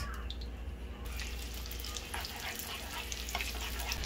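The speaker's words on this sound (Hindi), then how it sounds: "ये थोड़ा सा गरम हो जाए, इसमें डालते हैं जी अब प्याज।" Steady frying sizzle as onions cook in hot oil, crackling and hissing continuously at moderate volume, with small clinks and pops throughout.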